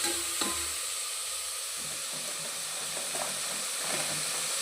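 Brinjal pieces sautéing in a pan with salt and turmeric give off a steady, close frying sizzle and hiss, with a few faint stirring scrapes and no voices.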